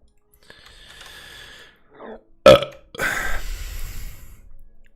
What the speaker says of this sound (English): I apologize, guys, for the burping.